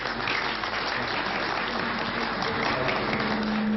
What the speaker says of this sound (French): Quelques applaudissements pour le général américain à la retraite